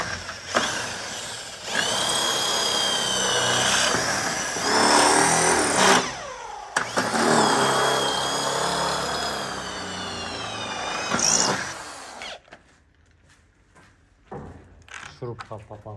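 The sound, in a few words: drill driving screws into plastic window frame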